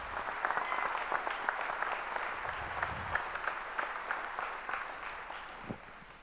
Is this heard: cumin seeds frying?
no